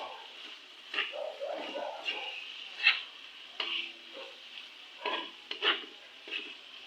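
Beef and mushrooms are stirred in a frying pan, with scattered scraping and clattering strokes over a faint sizzle, fairly quiet and close.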